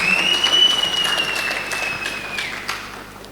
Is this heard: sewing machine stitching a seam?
no